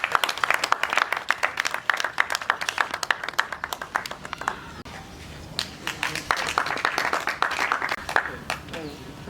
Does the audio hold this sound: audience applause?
yes